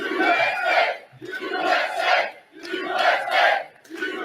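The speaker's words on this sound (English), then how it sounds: "The people cheering are just the best." Large rally crowd at a Trump speech chanting in unison, a loud rhythmic cheer repeated in waves about once a second, close and full.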